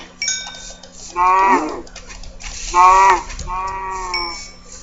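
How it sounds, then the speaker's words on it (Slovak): Cows moo in a video game, likely Minecraft given the armor crafting: three drawn-out lowing calls in a row, close and loud over a steady low hum, with no talk. "Moc kráv je tu, moc kráv."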